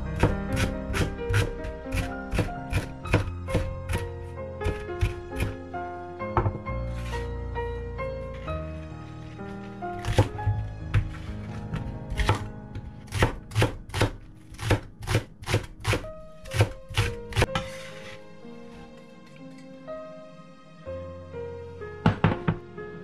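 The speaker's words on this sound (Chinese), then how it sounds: "切完了葱姜和肉丁" A knife chops pork belly, scallion and ginger on a cutting board in bursts of sharp, close thunks, quick runs of strokes separated by brief pauses, with a final few hits at the end.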